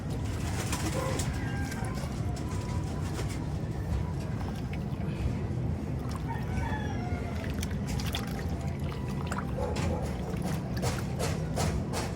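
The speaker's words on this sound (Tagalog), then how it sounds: "Ang napakaliit na ibon." Soft cooing and small chirps from birds sit under a steady, busy background hum, with faint splashing of water throughout.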